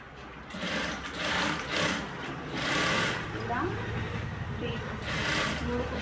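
A sewing machine stitches a blouse in short, close runs of rapid mechanical whirring, with a voice talking over it throughout.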